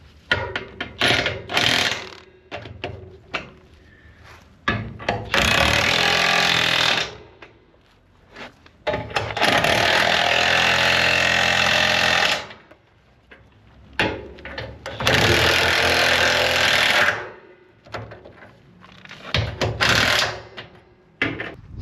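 Bolts being driven back into the front of a Ford Crown Victoria with a power tool, in repeated loud bursts of ratcheting, whirring mechanical noise a couple of seconds long, separated by short pauses and small clanks.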